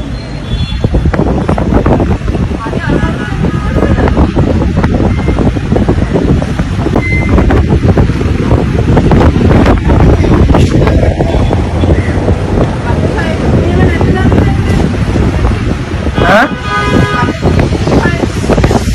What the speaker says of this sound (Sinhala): ඒ වෙලා තියෙන හුළඟ වැඩි ඒකයි.